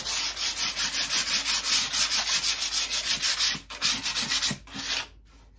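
Painted finish being hand sanded with 400 grit sandpaper, rapid rhythmic back-and-forth rubbing strokes close up, pausing briefly near the end.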